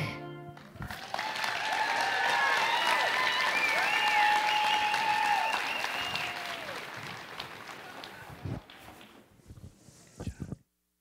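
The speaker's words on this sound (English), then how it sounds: "another round of applause for them" A school talent show audience at Cascade Christian Academy breaks into applause after a performance, crowded clapping running under lingering sustained music tones, then thinning to a few scattered claps before it stops.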